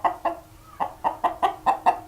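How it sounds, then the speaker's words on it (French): A rooster calls his hens to food with a run of close, rhythmic clucks, about eight short bursts in two seconds, loud and free of talk. "Lorsqu'on emmène de la nourriture, par exemple, il va appeler les poules"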